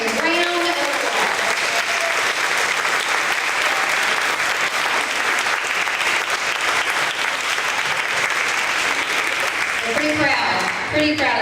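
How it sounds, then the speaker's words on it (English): An audience at a first grade awards event applauds field day champions, a dense sustained clapping that carries for several seconds before fading as a voice begins speaking. "let's give these field day champions a round of applause"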